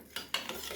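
Mango jam with jaggery stirred in a pot, a spoon scraping and clinking against the metal in a few uneven strokes at close range, with no voices.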